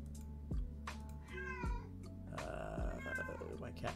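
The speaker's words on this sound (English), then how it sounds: "My cat decided to say hi." A pet cat meows a few times, close by, its calls rising over a steady low hum in a room where a card game deck is being discussed.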